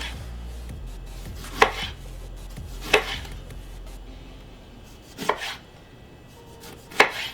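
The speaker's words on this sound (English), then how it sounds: "now same thing with the lime, slicing that up" Knife slicing a lime on a cutting board: four crisp, separate chops spaced a second or more apart, close and clear over a quiet background.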